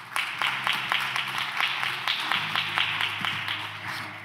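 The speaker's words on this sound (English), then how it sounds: "A round of applause." An audience applauds a moderator taking the stage at a civil-society forum session, steady clapping from many hands with a few sharper individual claps standing out, and a faint voice in the background underneath.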